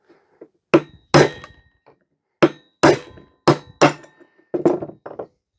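Metal punch struck with a hammer to drive a bushing out of a cast aluminium part from a scrapped Panasonic bread maker: about eight loud, close, ringing blows in irregular groups, ending in a quick burst of lighter taps.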